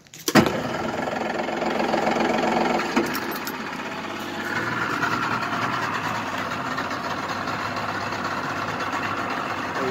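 A 2005 Polaris two-stroke engine fires with a sharp bang, then settles into a steady, loud, rough running drone that continues for the rest of the clip, close by with no talk.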